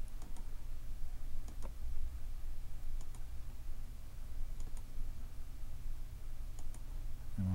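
A computer mouse clicks sharply in a quiet room, several single and double clicks spaced irregularly over a faint steady hum.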